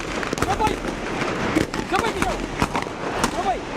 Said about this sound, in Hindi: इस वक्त ये धमाका हुआ है और गालिबन ये या ग्रेनेड का या रॉकेट का ये फायर था